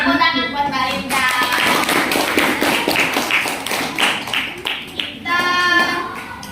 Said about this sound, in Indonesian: Tepuk tangan buat Mbak Linda.